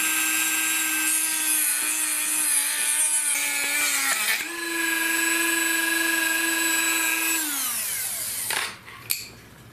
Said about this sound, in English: So I'm going to use my little Dremel here and cut it off